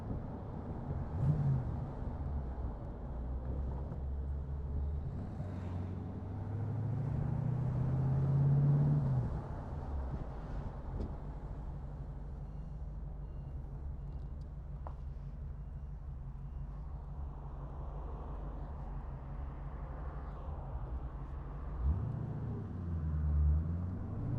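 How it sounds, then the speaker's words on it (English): An AC Cobra sports car engine rumbles steadily at close range on country lanes, swelling as it speeds up around the middle, with a low throaty drone throughout and no talking. "give it a little bit of a blast so you can see the countryside and hear the car"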